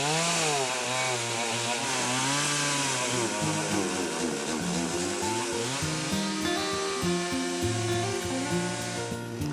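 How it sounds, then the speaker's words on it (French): Chainsaws run across a village in Wayana country, a loud continuous buzzing drone with the engine pitch rising and falling as the saws rev and cut, no voices. "il me semble avoir entendu une tronçonneuse fonctionner"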